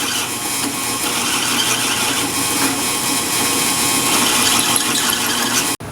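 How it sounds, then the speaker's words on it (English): Power drill boring out a bolt hole in a car part held in a vise, for a 1964 Ford Galaxie 500; a steady, loud, close grinding whine runs for about six seconds, cutting off abruptly near the end. "Dad gets that drilled out"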